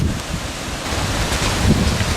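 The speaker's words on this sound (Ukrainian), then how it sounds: "Який вітер." Strong wind gusts at the onset of a thunderstorm near an apiary of alpine beehives: a steady, loud broadband roar of buffeting air fills the clip, with no voices.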